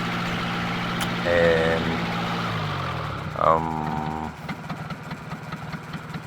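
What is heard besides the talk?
engine running at idle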